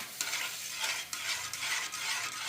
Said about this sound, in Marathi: हे सगळं व्यवस्थित असं हलवून घ्यायचं मसाले परतवून घ्यायचे